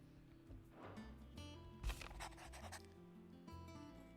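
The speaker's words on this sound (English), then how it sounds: "Oh, that was a pen writing." A pen scratches across paper in the video game Final Fantasy XVI, heard as a few short, quiet strokes over soft tonal background sound.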